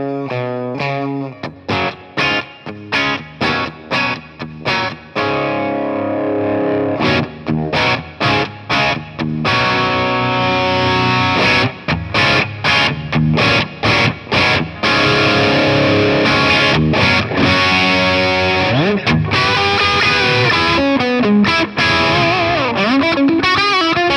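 Gibson Les Paul Standard Double Trouble electric guitar with its volume rolled back, playing chords and lead lines with a slightly driven, mostly clean tone, steady and full throughout with no talk.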